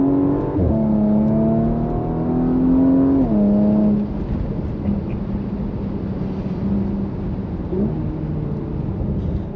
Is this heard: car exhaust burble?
yes